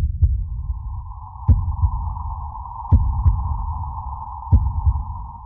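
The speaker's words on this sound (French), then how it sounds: "Battement de cœur récupéré, récupéré." Heartbeat in a hospital scene from an action film: a slow, steady series of four deep thumps, roughly one every second and a half, over a constant electronic hum.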